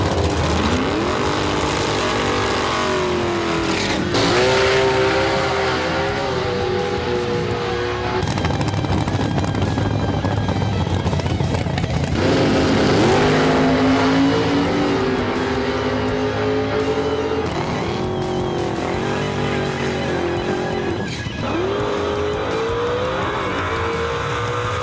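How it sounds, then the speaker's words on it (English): Blown big-block drag race cars fired up in the pits at Atco Dragway, loud harsh engine roar with repeated sharp revs and rising and falling pitch, several engines overlapping and close by. "The cars are unloaded, fired up, and prepped for an intense weekend of racing."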